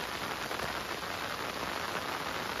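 Steady rain pours during riverbank fishing, a dense, even hiss of drops on surfaces filling the whole scene, close and unbroken, with no voices.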